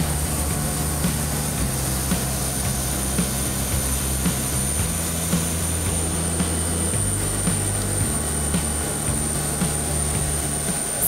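Steady airplane engine roar fills the cabin, a constant low rumble with a faint high whine, with no talking throughout.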